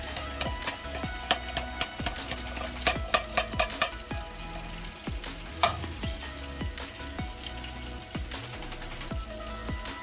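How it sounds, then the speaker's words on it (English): Canned black beans simmering in a pan over medium heat, with a dense crackling sizzle, irregular popping bubbles and repeated sharp stirring knocks, heard close and alone. "Once it starts simmering, you want to let it simmer for about 5 minutes"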